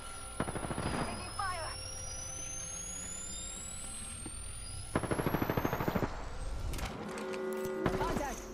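Automatic weapons fire in a squad-based shooter video game: several rapid bursts of loud, sharp gunshots, separated by stretches of quieter game ambience and sweeping synthetic tones.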